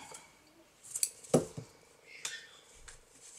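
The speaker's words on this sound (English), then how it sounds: "So at the end we need to fasten off and cut the yarn." Scissors snipping through yarn after finishing a crocheted clothes-pin bag, giving a few quiet, close metallic snips and clicks over a soft room background.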